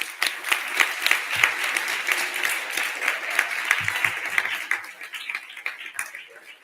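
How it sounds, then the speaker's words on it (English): Sustained applause from an inauguration-day audience, honoring campaign helpers, fills the whole stretch with dense, steady clapping that tapers slightly toward the end, with voices faintly mixed in. "So I think you all deserve a round of applause,"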